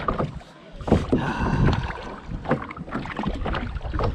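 A kayak paddle dips and pulls through the water in close, rhythmic splashes and gurgles, with some wind buffeting the microphone.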